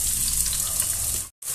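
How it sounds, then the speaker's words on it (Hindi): Chopped onions fry in about two spoons of hot oil with cumin and asafoetida in a kadhai, giving a loud, continuous sizzling hiss that cuts out abruptly near the end, then resumes. "अब प्याज को हम गोल्डन ब्राउन होने तक हल्का भून लेंगे।"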